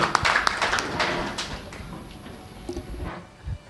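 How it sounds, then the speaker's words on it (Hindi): A seminar audience gives a short round of applause, a scattered patter of claps that starts strong and quickly thins out into a few isolated taps and thuds in a quiet room. "एक बार जोरदार तालियां।"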